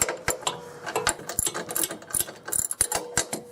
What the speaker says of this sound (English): So I'm going to run this down with just a normal wrench